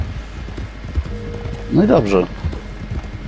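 Horse hooves clip-clopping at a gallop in the Red Dead Redemption 2 video game, a steady close rhythm under a man's brief speech.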